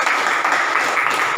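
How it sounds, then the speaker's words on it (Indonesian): Classroom of students bursts into brief, dense applause, a continuous wash of many hands clapping together without a break. "terima kasih tepuk tangan untuk kita semua"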